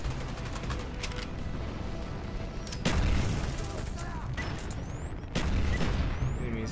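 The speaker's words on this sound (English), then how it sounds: "He's got those little grenades that do this stuff." Two heavy explosion bursts from grenades in Call of Duty: Black Ops multiplayer on PC, each a sudden loud boom with a decaying rumble, set against ongoing in-game battle noise and scattered gunfire.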